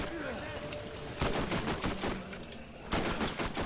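Rapid bursts of enemy automatic gunfire rattle in a Borderlands game, a dense stream of fast shots with two louder flurries, at moderate volume under faint background sound.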